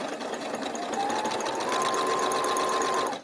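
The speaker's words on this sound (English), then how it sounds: "I'll go sew that right now." A sewing machine runs in one steady, continuous burst of rapid stitching while quilt pieces for a tulip quilt are sewn, fairly close and without any talking.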